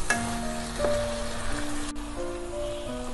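Spices and potatoes for Bengali alur dum being sautéed in oil in a pan, giving a steady, close crackling sizzle with a sharp clink partway through, while a faint tonal hum runs underneath.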